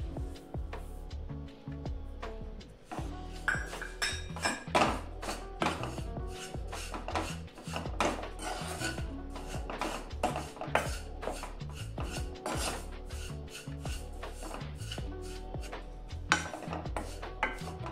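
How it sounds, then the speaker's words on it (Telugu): Salt is mixed by hand into sorrel leaf pickle, producing dense, continuous squelching and scraping against a bowl with rapid, irregular strokes, close and fairly loud. "ఇప్పుడు ఇందులోకి 25 గ్రాములు ఉప్పు వేసుకొని కలుపుకుంటున్నాను"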